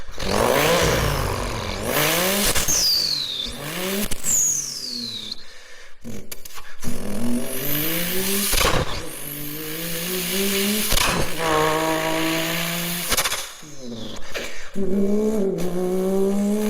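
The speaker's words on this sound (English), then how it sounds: "Twin turbo versus single turbo Toyota Supra edition." A twin turbo Toyota Supra engine revs hard and loud, climbing through repeated high-pitched pulls with turbo whistles and brief drops between them, close and with no talk.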